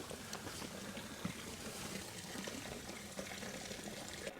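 A solar-powered electric water pump runs while water flows steadily, a soft continuous gushing and splashing with faint clicks, heard alone at low level.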